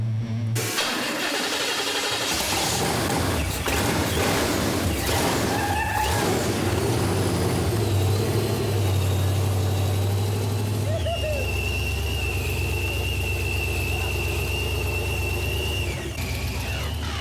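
A custom-built 1988 Chevy Blazer race truck, built from scratch, runs with a loud, steady low engine rumble and growl that holds throughout, its pitch shifting as it revs, with some background noise on top.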